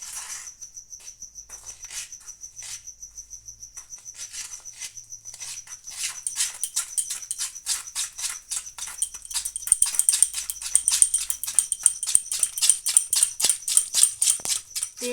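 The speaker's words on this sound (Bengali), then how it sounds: "তেল আর চিনিটা আমি ভালো করে ফেটিয়ে নেব।" Oil and sugar whisked together for lemon cake batter, quick rhythmic metallic ticks of the whisk against the bowl, steady at first then faster and louder, with no talk.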